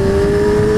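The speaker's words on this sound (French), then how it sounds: "Ah, elle est sacrément énervée comme bécane." A 2017 Kawasaki Z1000 motorcycle engine held at a steady high rev, a loud, close, sustained mechanical drone with a strong tonal whine and no speech.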